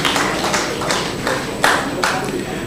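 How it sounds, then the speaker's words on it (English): Conference audience applauding in a hall, a dense wash of clapping with a few sharper bursts, steady and fairly loud throughout with no talk over it. "Another round of applause for them."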